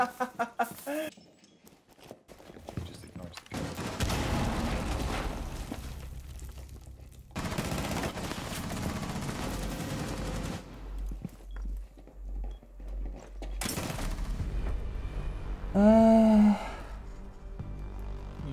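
Bursts of gunfire in Rainbow Six Siege come in short clusters between quieter stretches, mixed with footsteps, game effects and a player talking.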